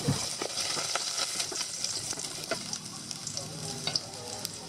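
Ginger sautés in a pan, a close, continuous sizzle with scraping stirs every so often and no voices.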